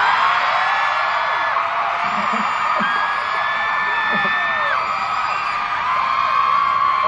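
Debut showcase audience for a boy band screaming and cheering continuously, a dense, loud wall of high-pitched shrieks and whoops with scattered yells throughout.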